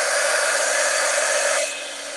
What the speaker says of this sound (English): so you're going to hear my dryer.